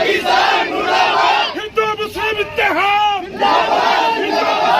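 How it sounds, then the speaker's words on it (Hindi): A large crowd at a Muslim protest shouts Pakistan Murdabad slogans in loud, rhythmic unison, with a brief sharper burst of voices partway through and a dense crowd roar carrying throughout. "जहां मुसलमानों की भीड़ ने जो है पाकिस्तान मुर्दाबाद के नारे लगाए"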